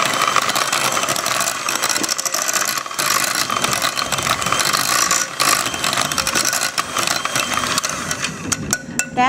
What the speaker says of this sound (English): Now you want to blend this until it's almost smooth.